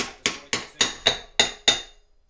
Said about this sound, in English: You want to take your hammer, just tap the motor casing a little.